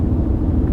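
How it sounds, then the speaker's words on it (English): A BMW wagon passes close by, its low, steady engine and road rumble filling the short moment without a clear rise or fade. "Another cool car just went by, some BMW wagon"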